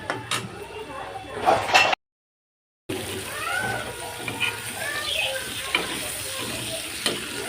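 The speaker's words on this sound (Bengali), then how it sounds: "এইদিকে চিংড়ি চিংড়ি মাছটা ভেজে নিই ভালো করে" Shrimp frying in a pan for a home-cooked Bengali meal, a steady close sizzle with bubbling crackles and a brief dropout partway through.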